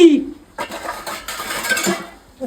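Plates and bowls clattering and clinking close by as dishes are handled and stacked in a home, short ceramic knocks in quick succession, with voices talking nearby.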